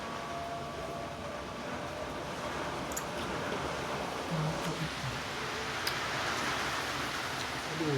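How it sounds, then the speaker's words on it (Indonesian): Heavy rain pours in a dense, steady hiss that fills the whole stretch, with faint low rumbling beneath and no break in the downpour. "aduh hujan deras teman-teman."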